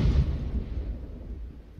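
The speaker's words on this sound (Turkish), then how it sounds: "Bomba çok yakın patladı lan." A grenade in the video game PUBG goes off close to the player, a heavy low boom that rumbles and fades over about two seconds.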